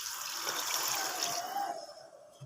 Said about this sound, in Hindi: तो हम इसमें ना अपने हिसाब से पानी ऐड करेंगे।